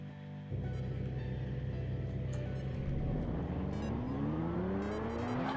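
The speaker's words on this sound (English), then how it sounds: "All right, so there the car goes, and we have our Mustang in there" A Mustang racing car in a Unity-built racing game starts up and drives off, its engine droning steadily and then climbing in pitch as it accelerates, loud and continuous with no talking.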